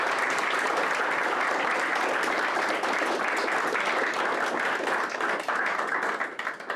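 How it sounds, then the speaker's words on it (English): A conference audience applauds panelists at the close of a session, a dense, steady wash of many hands clapping that stays loud throughout and thins slightly near the end. "Please join me in giving our panelists a warm round of applause."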